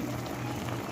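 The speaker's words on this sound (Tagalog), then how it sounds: "kumukulo na po yung ating pinaksiw na tilapia" A pot of pinaksiw na tilapia, fish simmered in vinegar, bubbles on the stove with a steady low bubbling hiss, close and continuous, with no one talking.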